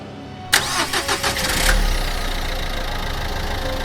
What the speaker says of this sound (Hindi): हमने गाड़ी स्टार्ट की